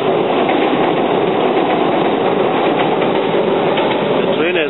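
A train rumbles steadily across a railway bridge over Narara Creek, a loud continuous rolling roar heard close by with faint rhythmic wheel clatter, and no voices.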